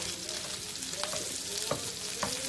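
Vegan meat substitute fries with a steady sizzle while a spatula breaks it up, sharp scraping clicks popping out over the hiss at irregular intervals.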